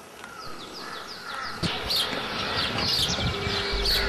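Small black birds call from trees in the Kinnaur hills of Himachal, a crow-like caw repeating among scattered chirps over steady outdoor background noise.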